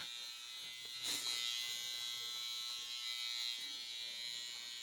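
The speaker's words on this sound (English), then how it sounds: "You'll probably hear in the background that's the aircon" An air conditioner hums and buzzes steadily in the background of a hair replacement fitting room, a constant mid-pitched drone with a brief louder swell near the start.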